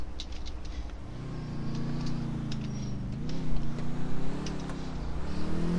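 A car driven in the video game GTA 4 hums along with a steady engine drone that rises and falls as it revs, growing louder toward the end.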